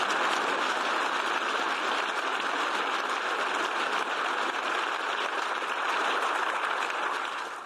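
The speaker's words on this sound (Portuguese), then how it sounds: "Zelensky foi aplaudido de pé por todos os eurodeputados presentes na sessão" Members of the European Parliament give Ukrainian president Zelensky a standing ovation, a dense, continuous wall of applause filling the chamber at steady loudness throughout.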